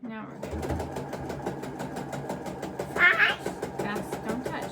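A home sewing machine running fast while stitching chair upholstery fabric, a steady rapid mechanical chatter throughout, with a cat meowing briefly partway through and a voice speaking nearby.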